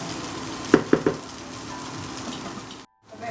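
Okra for avial sautés in a pan with a soft, steady sizzle. A few sharp clinks of a utensil come early, and the clip cuts off briefly near the end.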